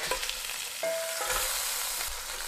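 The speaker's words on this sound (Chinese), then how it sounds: "稍微炒一下，" Lamb shanks are stir-fried in a wok with bean paste, scallion, ginger and garlic, making a continuous close sizzle with scraping stirs throughout and no voices.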